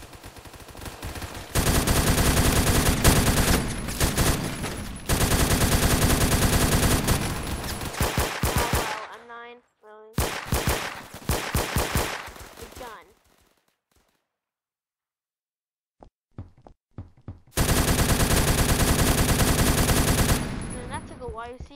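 Gunfire in the online shooter Phantom Forces comes in long loud automatic bursts, separated by a choppier stretch and a near-silent gap before the firing resumes.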